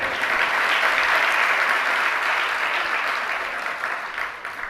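A crowd at a religious discourse claps together in a full, sustained round of applause, loud and even throughout before easing slightly at the end.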